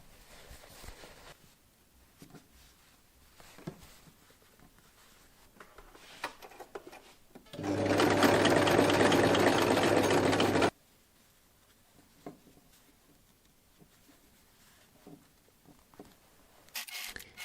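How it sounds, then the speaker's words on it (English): A sewing machine stitches the edges of a hanging pocket bag made from fabric scraps, running in one steady, loud buzzing burst of about three seconds between quieter handling noises, with no talk. "Then sewing the final edge, and I'm also sewing all the other edges."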